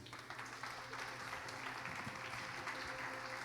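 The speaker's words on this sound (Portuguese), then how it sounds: "Vamos aplaudir o nome de Jesus." A Pentecostal congregation stands and applauds in church, a steady wash of clapping hands mixed with a low background hum, at moderate distance with no clear talking.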